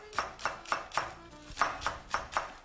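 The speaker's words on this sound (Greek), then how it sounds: "φρέσκα κρεμμυδάκια, τα οποία τα καθαρίσαμε και τώρα τα ψιλοκόβουμε" A knife finely chops fresh, cleaned spring onions on a board in steady, evenly spaced crisp strikes, about eight close, clear thuds with no talk.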